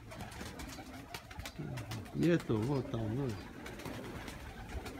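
Pigeons cooing in a flock of around a hundred birds, soft rolling coos rising in a short series near the middle, under someone talking over outdoor wind noise.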